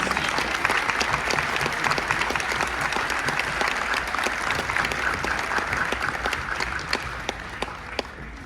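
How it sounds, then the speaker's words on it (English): An audience at a Future City regional competition claps for the competing students and their teams, with sustained, even applause from many hands and a few sharper claps standing out near the end. "Let's give a round of applause to all of our students and their teams."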